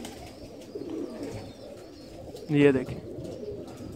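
Ferozpuri pigeons coo softly while being handled, one short close coo rising briefly under a man's speech and quiet background noise.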